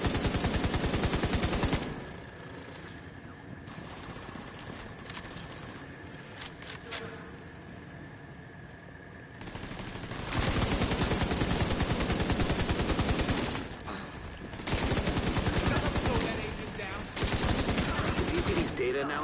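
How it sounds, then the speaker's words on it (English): Automated turrets fire at hostiles in a sci-fi shooter game, in bursts of rapid gunfire separated by quieter gaps with some background game sound. "our turrets over there taking care of them"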